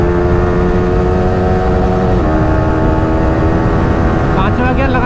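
Yamaha R15 V4 sport motorcycle accelerating hard through gears with its quick shifter, a steady loud engine drone with stepping pitch changes at each upshift, close and continuous, with a voice talking over it.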